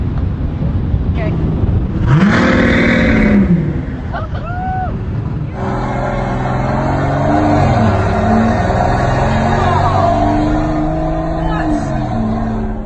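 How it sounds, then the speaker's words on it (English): A supercar's engine roars loudly and steadily close by, its pitch rising and falling as it revs, with voices talking over it near the start. "This car is so loud."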